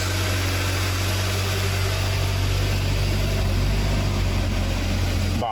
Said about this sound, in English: The idle is coming down like it normally does.